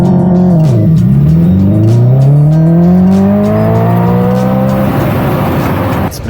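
A 2025 Hyundai Ioniq 5 N electric car driven fast on a race track, its loud motor whine sweeping and climbing steadily in pitch, with tire noise and road roar underneath, heard close from on board.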